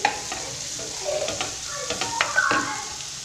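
Onions frying in a pan with coarsely grated carrot, a close, steady sizzle broken by clattering stirs and scrapes of a utensil, with no voice.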